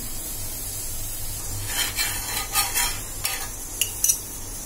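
Bajra bhakri roasting on a hot griddle (tawa), giving a faint steady sizzle with a few soft scraping and rubbing touches, close and quiet with no talking.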